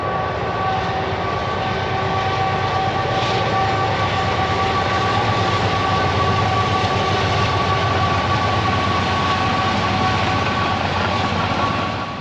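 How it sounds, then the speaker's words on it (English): A freight train loaded with corn rumbles past close by, loud and continuous, with a steady hum, faint tonal whine, and rhythmic rattling of cars throughout. "there's a train coming, so I'm gonna pause it for just a second"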